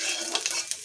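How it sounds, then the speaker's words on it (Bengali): Cumin seeds crackle in hot oil in a kadai, a close bright sizzle with a few sharp pops and a faint stir of a utensil, brief and without talk. "এখন আমি জিরে দিয়ে দেবো, আর কিছুটা ভাজা জিরে আমি তুলে রাখবো।"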